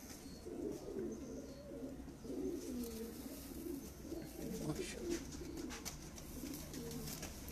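Pigeons of a home-bred flying breed coo steadily from a nearby rooftop, low rolling calls repeating throughout with faint bird chirps and light background noise.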